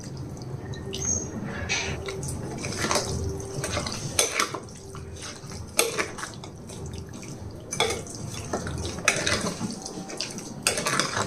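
Korramenu fish pickle gets mixed in a vessel, with wet squelching and repeated clinks and scrapes of a utensil against the container in an irregular rhythm, close and moderately loud.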